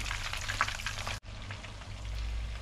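Lumpia shanghai spring rolls crackle and sizzle steadily in hot oil, a close, continuous frying hiss with one brief cut partway through and no voices.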